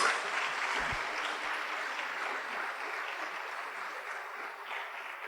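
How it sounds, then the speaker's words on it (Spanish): A church congregation claps together during a service, a soft, steady patter of applause heard from a distance that keeps an even level throughout. "denle una fuerte ofrenda de palmas al Señor"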